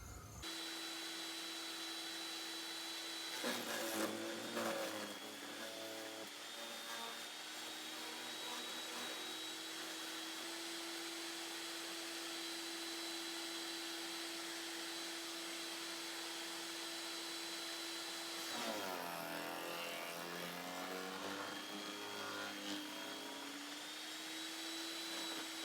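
A Portland chipper shredder drones at a steady pitch while a branch is fed through, with two short bursts of crunching and grinding as the wood is chipped, close and fairly quiet overall.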